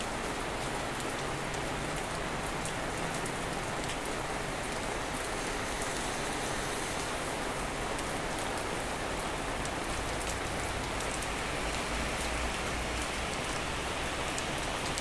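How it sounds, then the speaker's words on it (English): Steady rain falls, a dense constant patter on surfaces, even and unbroken for the whole stretch with no voices. "Listen to the song of the rain."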